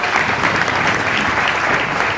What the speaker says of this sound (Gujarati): રસુલપરા ગામ પરિવાર માટે જોરદાર તાળીઓ પાડો, તમારા પોતાના માટે